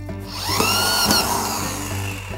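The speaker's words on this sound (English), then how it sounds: "I'm going to be using exterior deck screws. Now, while I'm putting these in, I want to make sure that I'm doing it pretty slowly." A power drill drives exterior deck screws into wood while a raised garden bed is assembled, giving a loud, close motor whine that holds steady for about two seconds and then winds down.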